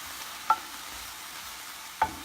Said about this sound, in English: I'm going to add in our asparagus just to warm it up.